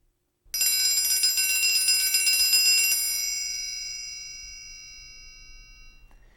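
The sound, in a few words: fastest possible roll on a triangle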